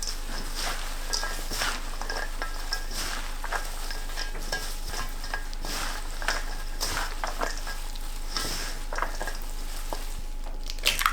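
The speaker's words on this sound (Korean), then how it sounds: "부침가루 100g, 감자 전분 50g, 고운 소금 반 스푼 넣고 섞어주세요" Pancake flour, potato starch and fine salt are mixed into mashed tofu in a bowl, producing repeated close scraping and stirring strokes at an even rhythm with no talk.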